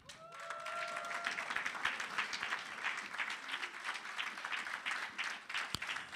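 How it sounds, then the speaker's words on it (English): Sustained applause from an audience at a women in sport summit, steady and dense clapping that fills the whole stretch without pause. "Let's give a round of applause to Lwandile Simelane."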